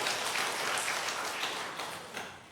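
Broad, steady applause from a congregation at a Korean Sunday afternoon church service, heard at a moderate distance and softly fading toward the end.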